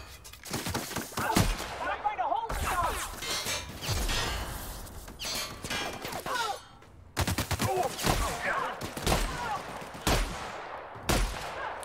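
Shotgun blasts from The Outer Worlds game burst out in loud, close bangs separated by short gaps, amid clattering combat noise and game voices.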